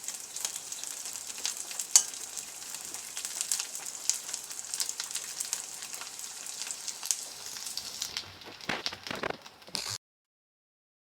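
Coconut pieces frying in hot oil in a pan, a steady close sizzle with scattered crackles and pops for about ten seconds, then a few louder stirring scrapes before it cuts to silence.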